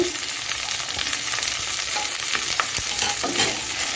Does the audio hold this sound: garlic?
yes